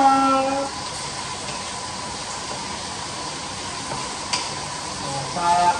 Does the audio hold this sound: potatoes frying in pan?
yes